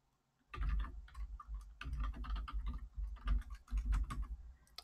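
Quiet computer keyboard typing during Linux disaster recovery work: a short burst of light, rapid key clicks in an uneven rhythm, close and alone, starting after a brief silence.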